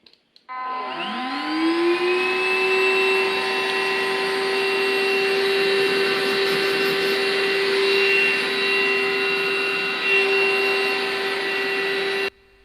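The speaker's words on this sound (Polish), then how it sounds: "A odkurzanie uruchamia się jednym przyciskiem." A Blitzwolf BW-AR182 cordless vacuum cleaner starts with a rising motor whine, then runs as a steady high-pitched whirring hum for about eleven seconds before switching off abruptly.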